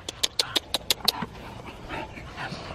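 A female bully-breed dog whimpers and pants in a quick series of short, high yelps. Softer breathing and shuffling follow against a low background.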